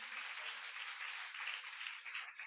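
Congregation clapping together during a Sunday church service, a steady crackling wash of many hands that carries on evenly for a few seconds with no voices over it.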